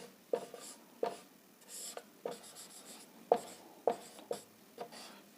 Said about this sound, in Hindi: हम लोग सिंपल सेंटेंस में लिखेंगे राम जाता है।